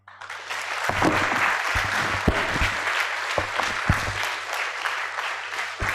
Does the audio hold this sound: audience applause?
yes